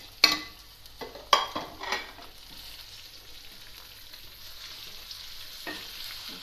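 Chicken pieces dropped into a pot of browned onions for biryani, with a few sharp clattering bursts at the start, then a softer continuous frying sizzle that settles down, close by and without voices.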